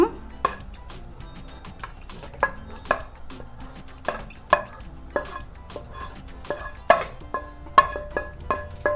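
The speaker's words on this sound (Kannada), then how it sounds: "ಬೀನ್ಸ್ ಹುರ್ಕೊಂಡಿದ್ದೇವ್ರಲ್ಲ ಅದನ್ನ ಇವು ಒಗ್ಗರ್ನಿದಾಗ ಹಾಕ್ಕೊಳ್ಳೋಣ" Fried beans tossed into a pan of tempering with tomatoes for beans palya, stirred with a spoon: repeated scraping clinks and knocks against the pan over a low sizzle, close and steady, with no talking.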